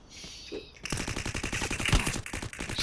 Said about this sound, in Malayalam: എവിടുന്ന് ഒരു വെടി കേട്ടല്ലോ.